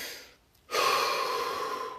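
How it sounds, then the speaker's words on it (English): A single deep, drawn-out breath in rushes steadily through the airways after a short pause, close and clear with no talking. "Now your lungs want to take a deep breath,"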